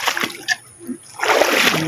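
Floodwater splashes at a farm during heavy rain, with short close sloshes followed by a sustained broad rush of water, loud and near.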